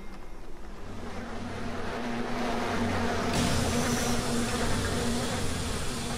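Bees buzz loudly and continuously in the video game BioShock, a dense insect drone that swells and shifts over steady background noise, with no talk.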